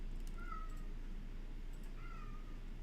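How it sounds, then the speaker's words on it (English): A cat screams in two faint, drawn-out yowls, the first near the start and the second a second and a half later, heard over a quiet background with no talk. "That cat is screaming."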